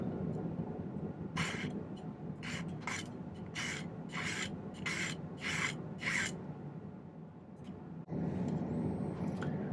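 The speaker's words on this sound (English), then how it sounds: "I'm just going to file these flat." Metal file rasping across silver ring pieces to flatten them, about seven distinct strokes in a steady back-and-forth rhythm, close and fairly loud over a low hum, then quieter handling.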